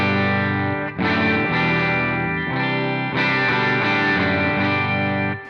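Electric guitar through the AmpliTube amp simulator turned up to 10, chords with slight overdriven grit, played in several strummed phrases with brief gaps, loud and alone.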